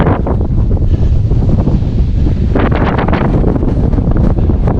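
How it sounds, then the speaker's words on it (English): Strong, blustery wind buffets the microphone on an exposed, cloud-covered coastal ridge in Dorset, a loud continuous roar with gusts swelling throughout and no talking. "It's really quite blustery."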